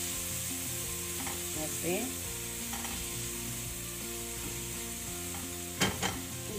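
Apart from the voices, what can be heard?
vegetables sizzling while cooking for soup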